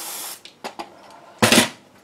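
Short hissing bursts from a WD-40 aerosol can sprayed on guitar hardware to remove oxidation, two brief puffs and then a longer, louder spray, close up with quiet pauses between them.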